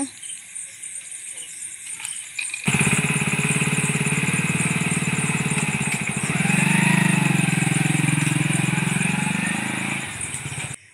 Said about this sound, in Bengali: ওই যে বাইক রয়েছে, দাদার বাইকটা রয়েছে।